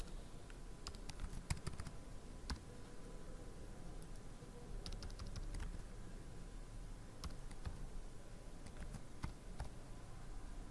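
Steady, quiet typing on a computer keyboard as a name is entered during a Java and C++ programming lecture, with irregular sharper key clicks standing out over a constant low background hiss and no talking.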